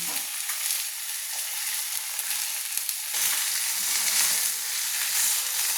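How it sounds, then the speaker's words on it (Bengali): Four fish fry in a pan with a dense, loud, continuous hiss of hot oil that swells slightly louder midway. The sizzle is close and without speech. "মাছগুলো ভাজা হচ্ছে।"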